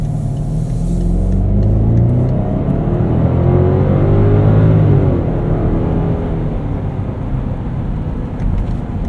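A 2013 BMW X5 xDrive50i V8 idling at a standstill, a loud, steady low rumble close by, with no talking.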